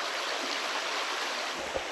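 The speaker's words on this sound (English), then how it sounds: "All of those streaks is like just little water trickling out." Spring water trickles and drips down streaked rock at Blanchard Springs in the Ozark Mountains of Arkansas, a steady soft rushing wash that holds even throughout, with a few low splashy drips near the end.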